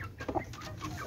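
A hen gives soft, short clucks over a busy background while being fed millet, with chicks nearby.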